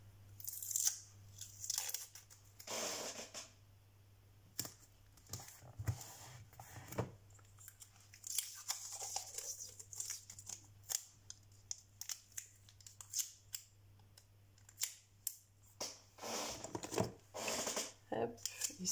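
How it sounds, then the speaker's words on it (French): Adhesive tape is pulled, torn and pressed down to hold a red string in place, giving quiet, close crackles and rips in short irregular bursts, with a person speaking softly throughout. "pour faire tenir la ficelle rouge, je mets du scotch."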